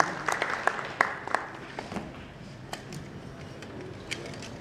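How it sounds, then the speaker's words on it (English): Audience clapping at an event as a guest comes to the stage, scattered, uneven claps from a modest crowd heard somewhat distant in a roomy space, loudest at first and then thinning out to a few stray claps. "Let's clap for him as he comes to the stage"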